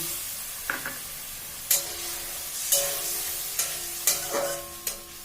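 Pointed gourd curry made with milk and poppy seed sizzles in a pan while water is added, with scattered sharp stirring scrapes and short hissing bursts spaced about a second apart, close and moderately loud, with no talking.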